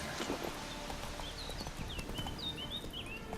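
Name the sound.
horse Roach's hooves clip-clopping in the video game The Witcher 3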